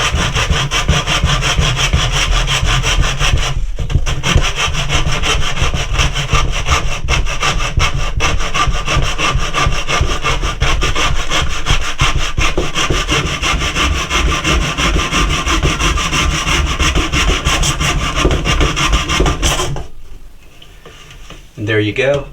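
A hand saw cuts through ABS plastic drain pipe under a cabinet with loud, close, rhythmic rasping strokes that continue for about twenty seconds and then stop abruptly.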